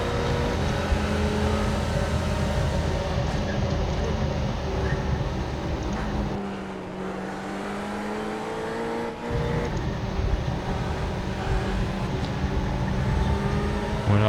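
A Ferrari 488 GT3 race car engine drones loudly and continuously in iRacing at Spa, with rising and falling revs through gear changes and a brief dip as the car lifts off.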